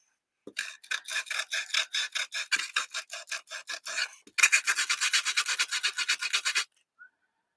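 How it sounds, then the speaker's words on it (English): Sandpaper rubbed back and forth along the edges of a small craft piece makes a steady run of close, rhythmic rasping strokes. A short pause falls in the middle before a second, louder burst of quicker strokes. "Nah, let's just use sandpaper. It's safer."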